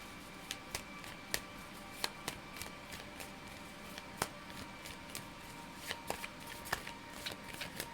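Tarot cards are shuffled by hand in a quiet room, giving a steady run of soft riffles and crisp card slaps that land every half second or so, fairly close.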